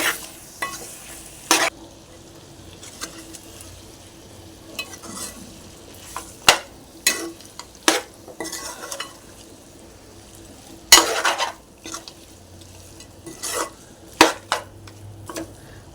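A spoon stirs chicken fry with masala and coconut powder in a pan, giving sharp scraping clacks at irregular intervals over a soft, low sizzle, close up with no talking.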